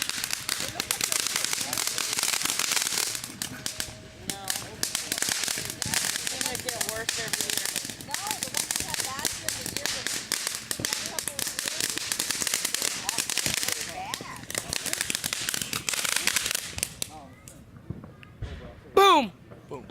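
Firecrackers and fireworks being lit and set off outdoors, a dense, continuous crackling barrage of sharp pops lasting most of the stretch, with people talking and shouting over it and a couple of louder bangs near the end.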